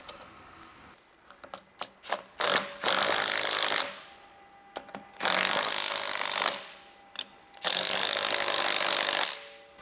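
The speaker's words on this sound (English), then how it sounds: "So now I'm going to go ahead and tighten these down." A ratchet tightening the strut assembly nuts of a Toyota Tacoma lift kit, with quick clicking bursts between three long, loud buzzing runs of a power tool, close up.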